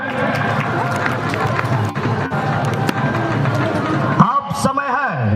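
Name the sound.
audience applause at football prize ceremony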